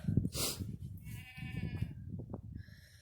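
Goats bleating in a grassy pasture, several close, wavering calls overlapping across a few seconds, with a low rustle of movement and grazing underneath and no talking.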